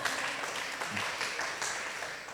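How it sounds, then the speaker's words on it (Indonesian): A church congregation claps during a sermon, a quiet, continuous spread of many hands clapping, heard from some distance. "Oh mau tepuk tangan enggak usah ragu-ragu tepuk tangannya."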